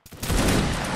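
A line-infantry musket volley in a Napoleonic Wars line-battle game, a single ragged burst of many shots fired almost together, loud and close, then a rolling, dense crackle and echo that fades slowly.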